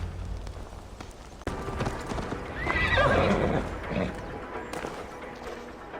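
A horse races through Jorvik in Assassin's Creed Valhalla, its hooves clip-clopping at a steady gallop with a whinny rising midway, under game ambience and faint voices.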